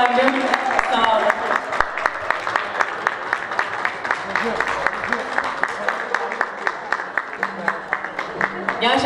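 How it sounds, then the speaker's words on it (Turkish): Rhythmic, evenly timed group clapping fills a book launch event, a steady beat of hands running under overlapping voices and chatter throughout. "Alkışlarla efendim"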